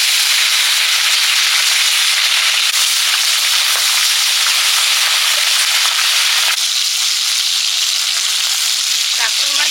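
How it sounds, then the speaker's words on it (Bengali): Dakhur fish fry in hot oil, producing a loud, steady, close-up sizzle that crackles densely and continuously without pause, with a slight shift in texture partway through. "তেল গরম হয়ে গেছে, এবার মাছগুলো ভেজে নিচ্ছি।"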